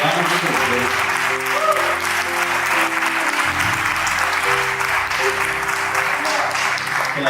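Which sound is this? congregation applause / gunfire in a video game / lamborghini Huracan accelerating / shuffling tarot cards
congregation applause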